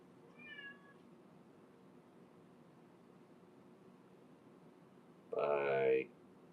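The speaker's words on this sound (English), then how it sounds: "Meow. It's my cat." A pet cat gives a short meow at the start, then after a quiet pause a louder, longer meow close by.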